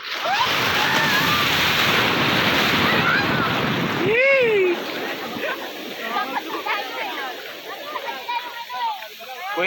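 Ocean surf at Baler crashes and washes loudly and continuously, close to the microphone, with wind noise and people shouting and talking excitedly over the waves.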